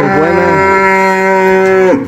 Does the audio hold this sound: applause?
no